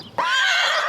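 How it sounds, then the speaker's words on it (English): A racehorse at Belmont Park racetrack lets out a single loud, close whinny that rings on for most of a second. "Horses."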